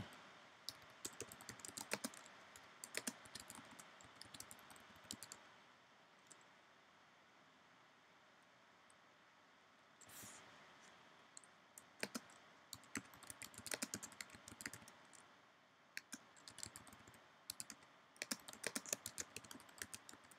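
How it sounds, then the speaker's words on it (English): Steady clicking of keys on a computer keyboard, typed in irregular bursts with brief pauses, close up and fairly quiet. "Alright, I'm just kind of typing."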